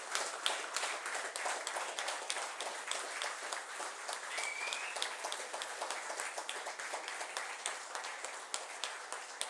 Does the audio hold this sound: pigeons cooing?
no